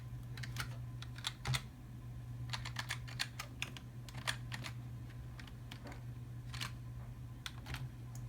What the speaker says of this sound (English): Try to type in my password with one hand.